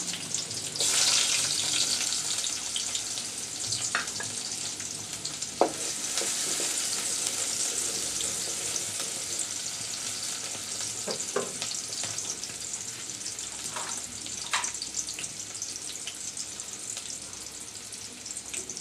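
Chopped onion and five or six cloves of chopped garlic frying in a pan until browned, a steady close sizzle with occasional stirring scrapes and no talking.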